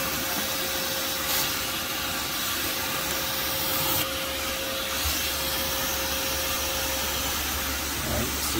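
A vacuum cleaner runs steadily and loud during removal of an underground yellow jacket nest, a constant whining hiss with a low rumble, a few brief surges of suction noise, and no talk.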